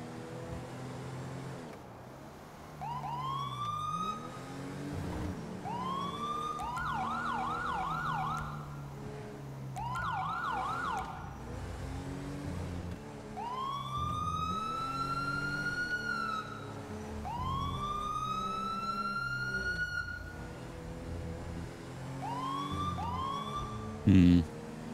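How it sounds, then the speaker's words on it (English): Police siren wailing in GTA 5, rising and falling in repeated sweeps, with fast yelp bursts between them, sustained and fairly prominent over game engine rumble, with a voice speaking partway through. "Oh, I hear your siren out in the distance now."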